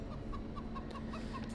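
A chicken clucking in the Cyberpunk 2077 video game, a faint series of short, evenly spaced clucks over a low steady background hum.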